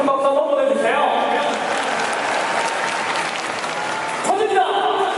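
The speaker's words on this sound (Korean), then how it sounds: "자, 큰 박수 한번 보내주세요." Large stadium crowd at the 2019 KBO All-Star Game at Changwon NC Park applauding, a steady wash of clapping and cheering under a loud announcer's voice, with brief tonal crowd chants at the start and end.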